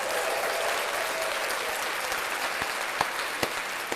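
Loud, even studio applause for a podcast guest, a continuous wash of clapping with a few sharper individual claps standing out near the end.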